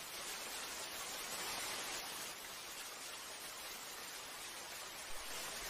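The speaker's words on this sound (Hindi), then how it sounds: "वो शायद बारिश को सुन रहा है।" Steady rain falling on an outdoor scene where a man stands soaked, a constant soft hiss with no clear drops or breaks, filling the whole stretch evenly.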